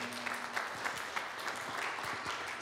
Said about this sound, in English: One more time, a round of applause for the children.